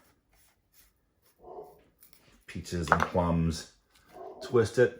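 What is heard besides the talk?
dog barking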